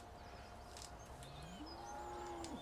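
Cattle low in a cow pasture in the Farming Simulator 17 game, a long rising moo ringing out clearly over soft background ambience, with a fainter call earlier.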